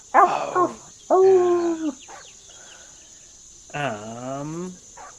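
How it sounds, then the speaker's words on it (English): Tabletop role-playing sound effect of kobolds howling: three separate eerie, wavering howls, fairly loud and close, with a quiet gap between the second and third over a steady high background hiss. "That's the kobolds howling."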